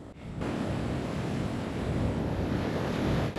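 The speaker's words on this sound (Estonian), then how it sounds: "Vaata neid laineid." Ocean waves roll and wash steadily up close, a continuous broad roar of surf with wind buffeting the microphone and no talking.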